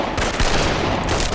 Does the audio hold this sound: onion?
no